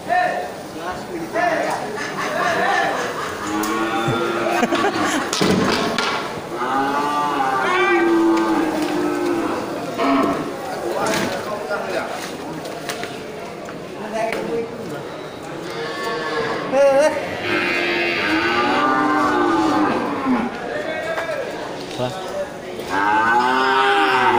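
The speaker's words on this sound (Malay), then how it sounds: "Ya kerbau bunting ya." Pregnant water buffalo lowing repeatedly at a livestock market, long drawn-out moos rising over a busy crowd with people talking throughout.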